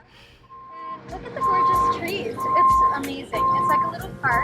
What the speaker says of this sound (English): You can hear the beeping in the background of one of the tour buses